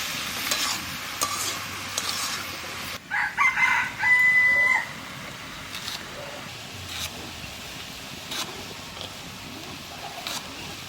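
Cauliflower, half cooked, fries quietly in a pan in a village kitchen with a soft sizzle and occasional stirring scrapes. A rooster crows nearby partway through.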